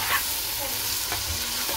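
Carrots, bell peppers and chillies sizzle in a pan for a Chinese-style pasta while a spoon stirs through them, scraping briefly over a steady close fry.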